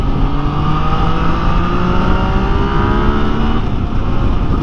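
A Yamaha Tracer 9 motorcycle accelerating through corners, its engine a loud, steady, close drone with rising tones and no pauses.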